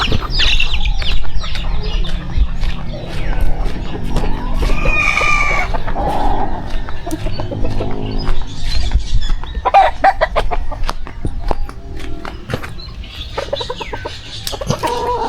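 Hens and a rooster cluck continuously and loudly close by at a chicken shelter, with overlapping calls, sharp squawks and short crowing-like bursts over steady farmyard background noise.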